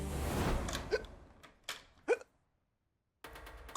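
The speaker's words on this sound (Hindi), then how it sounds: "अरे आपको तो हिचकी आ रही है, पानी पीजिए ना भाई साहब।" Several sharp, isolated hiccups sound close and fairly loud, spaced irregularly with quiet gaps between them, following a short stretch of background noise.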